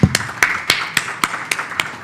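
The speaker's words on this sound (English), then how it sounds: "let's give them a big round of applause" Applause for a panel at the launch of an economic report in Rwanda. It comes across as a thin, steady run of about eight distinct claps, evenly spaced and fairly close, with no talking over them.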